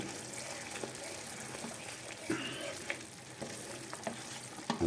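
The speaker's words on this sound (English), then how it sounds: "just keep mixing this so it doesn't get lumpy" Corn flour sauce being stirred in a pan for a bacon and mushroom baguette, a soft scraping and bubbling sizzle with small clinks, steady and close.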